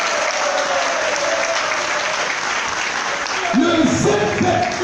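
A crowd claps steadily in loud, sustained applause at a political campaign launch event, with a voice briefly rising over it near the end.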